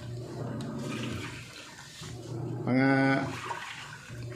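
An automatic washing machine hums with a steady motor drone and water noise, then a brief louder tonal surge from the drum turning, with a person speaking over it.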